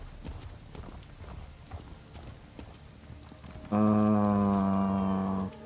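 A horse gallops in the video game Elder Scrolls Online, its hoofbeats clip-clopping steadily before a loud, sustained tonal sound cuts in near the end.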